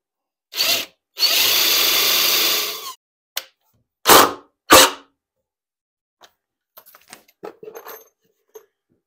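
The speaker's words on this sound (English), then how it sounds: "I'm just going to screw the legs in place" A power drill drives screws into the legs of a wooden miter station: a short whir, a longer steady burst, then two quick bursts, each loud and close, followed by faint clicks and handling noises.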